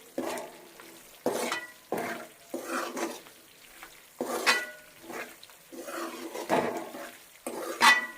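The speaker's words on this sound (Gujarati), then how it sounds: "અહીંયા આપણો ગુંદ ફૂલવા લાગ્યો છે" Edible gum (gond) frying and puffing in hot ghee for gundar pak, with intermittent stirring scrapes and clinks of a spoon against the pan over a soft steady sizzle, close and moderately loud.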